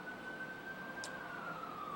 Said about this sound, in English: we'll wait for the ambulance to go past